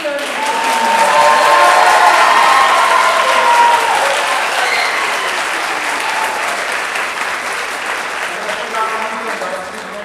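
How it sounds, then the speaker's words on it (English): A concert audience at a college choir spring concert applauds and cheers loudly, with whoops and shouts rising over dense clapping before it slowly settles. "we're going to have you all just go crazy. Applause!"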